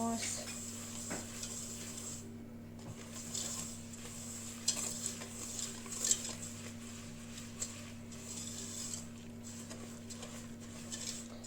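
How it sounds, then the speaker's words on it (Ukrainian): Eggs being stirred with sugar in a bowl for a Kyiv cake, a faint, steady scraping swirl that runs the whole time under a constant low hum, with a few sharper clinks along the way. "Розмішуємо їх з цукром щоб гарно розмішати"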